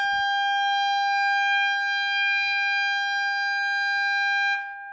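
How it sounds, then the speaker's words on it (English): A steady, loud 800 Hz test tone from a signal generator, with bright harmonics, plays continuously through a Eumig 430Wb radio's amplifier and speaker, then cuts off abruptly near the end. "signal generator is now supplying input 800 Hz to this radio"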